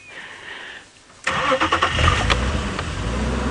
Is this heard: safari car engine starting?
yes